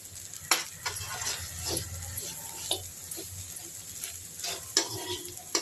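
Lotus stem stir-fry sautéing in a pan, with a steady sizzle under repeated scraping strokes of a spatula stirring the pieces, close and moderately loud.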